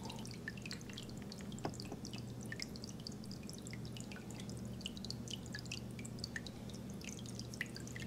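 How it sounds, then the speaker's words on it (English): Water drips and splashes steadily into a hydroponic system's reservoir, fed through a T-split that creates bubbles, giving a dense patter of small close droplets over a low constant pump hum. "there's a bunch of bubbles that are being created by splitting that that water off into a T and making it splash into the water"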